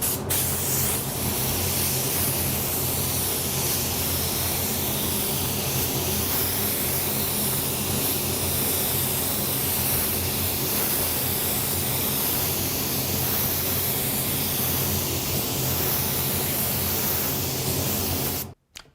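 Steady, loud spray gun hiss laying down a third coat of Createx AutoBorne sealer, a continuous close airy rush lasting nearly the whole time before cutting off abruptly at the end.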